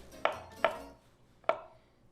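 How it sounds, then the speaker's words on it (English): Vegetables chopped with a knife on a cutting board in a home kitchen: three sharp, close thunks at an uneven pace, each with a short woody ring, with nothing else in the background. "Pull these veggies out. See if we can get them chopped up real quick."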